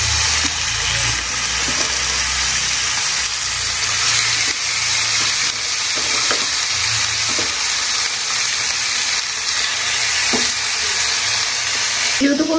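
Boneless chicken, thinly sliced and strained of its water, going into a hot pan for oats soup, giving a loud continuous sizzle with occasional stirring clatter throughout.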